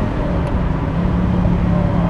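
A car drives along with a steady engine and road rumble that holds even and fairly loud throughout, without talk, from a comparison run between a Lamborghini and a Škoda.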